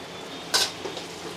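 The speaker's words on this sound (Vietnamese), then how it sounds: "Cứ rán một mẻ trước đi, xong rồi." Food frying in a pan at a busy Hanoi budget lunch kitchen, with a soft steady sizzle under a brief sharp metallic scrape of a utensil against the pan.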